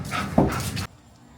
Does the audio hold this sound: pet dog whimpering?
yes